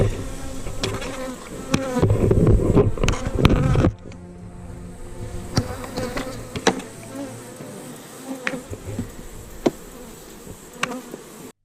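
Honey bees buzz loudly and densely from an opened rescue hive during an inspection, strongest for the first few seconds, then settle into a softer steady drone with occasional sharp knocks and clicks.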